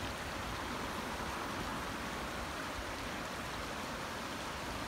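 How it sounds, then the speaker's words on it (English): A small mountain stream runs over little rapids beside a bike trail in a park, making a steady, broad rushing wash of water with no voices. "Got a cool little mini rapids."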